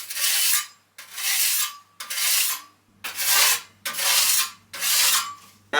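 A plastering trowel's blade edge rubbed along its length against an abrasive surface, six long rasping strokes in a steady back-and-forth rhythm, close and fairly loud with short pauses between.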